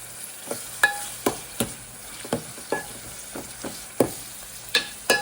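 Chopped ginger hits a hot pan and sizzles steadily while a utensil scrapes and stirs in a regular rhythm of about a dozen distinct strokes, close and fairly loud, with no talking.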